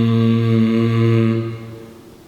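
A deep, steady buzzing hum of a male honeybee drone, imitated by a voice, held close and loud for about a second and a half before fading.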